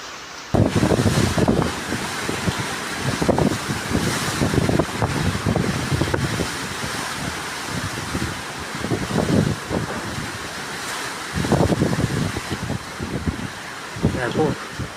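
Strong typhoon wind roars in heavy gusts during a power outage in the town of Alicia, buffeting the microphone in loud surges while someone talks over it.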